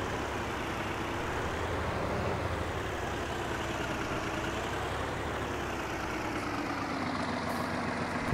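Heavy diesel rumble of a K700 tractor idling in Farming Simulator 19, a steady low drone with mid-range engine noise holding at a constant moderate level throughout, with no talking.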